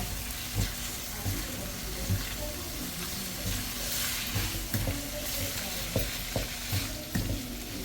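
Prawns sizzle and fry in a pan for a Malaysian nasi lemak sambal, with steady frying noise and regular scraping stirs throughout, loud and close, no talk.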